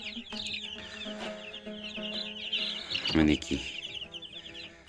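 A brood of fifty day-old COBB 500 broiler chicks cheeps continuously in a brooder, a dense, steady chorus of high peeping close by, with someone speaking briefly over it.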